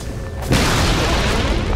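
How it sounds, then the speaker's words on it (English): A tower collapsing in the Dota 2 video game, a loud deep boom that bursts in suddenly and rolls on as a dense, sustained rumble. "Radiant's bottom tower has fallen."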